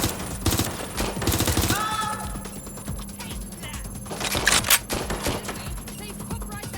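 Bursts of rapid automatic gunfire rattle in the Watch Dogs Legion video game, with clusters of close, sharp shots broken by brief pauses, and shouted voices come and go in between.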